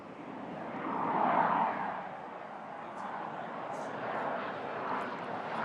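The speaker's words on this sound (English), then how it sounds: "Soon to open up with thrust from the engine. It climbs away, soaring up into the blue sky" A Pakistan Air Force JF-17 jet flies a slow high-alpha display pass, its engine a broad, distant roar that swells and fades steadily across the sky.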